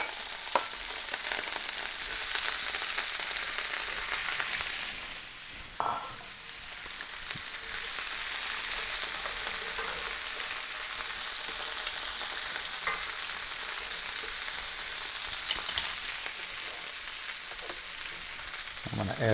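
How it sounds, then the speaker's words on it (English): Chopped carrots, onions and celery sizzle steadily in a hot pan for braised beef short ribs, a dense continuous hiss close by with occasional stirring and no talk. "I've cut up the carrots and the onions and the celery. I want to get that in and get that just sweated a little bit."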